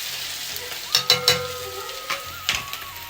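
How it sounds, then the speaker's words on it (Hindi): Vegetable momo filling with ginger and chilli frying in a kadhai while being stirred: a steady close sizzle, with several sharp scraping stirs of a spoon against the pan and no talk. "मिक्स करेंगे इसको, थोड़ा सा पकने देंगे"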